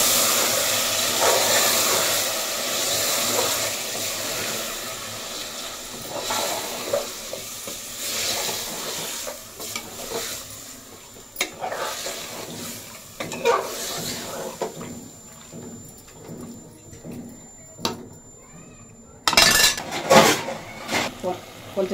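Chicken haleem stirred in a cooking pot, a utensil scraping and clinking against metal over a steady steamy hiss, with a voice speaking at times.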